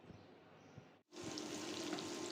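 Dried chilies and onion hit hot oil for tempering lentils cooked with drumstick, a quiet hiss that cuts out briefly and then bursts into a louder, steady crackling sizzle, close by and alone.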